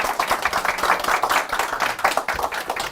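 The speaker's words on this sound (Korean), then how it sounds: "세 분께 박수" A seated audience at a book forum panel talk claps for three panelists, a close, steady round of many hands with a slight rise and fall, sustained for several seconds.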